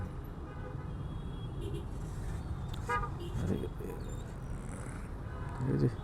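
Busy, congested city traffic with a steady low motor rumble and a few short car horn toots scattered through, fairly faint and distant, with some voices mixed in.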